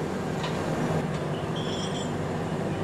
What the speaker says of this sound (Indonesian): Ini adalah kereta angkutan BBM ya, angkutan minyak.